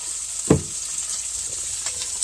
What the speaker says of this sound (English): We're just going to get those sauteed up